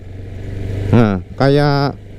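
A motorcycle engine idles unevenly with a low, steady rumble, while a voice talks over it in two short bursts.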